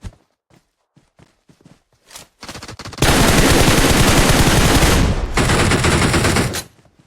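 Loud, sustained automatic gunfire in PUBG Mobile after a few scattered single shots and footsteps, the bursts rattling continuously for several seconds before cutting off abruptly.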